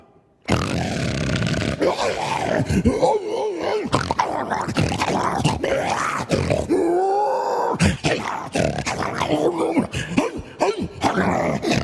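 A voice makes a long, rough, guttural growling and grunting noise, imitating a dog, rising and falling in throaty bursts.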